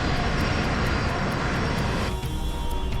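Steady, loud engine roar of a passenger airliner descending toward the runway with full flaps, a continuous broadband cabin drone that shifts slightly in tone near the end.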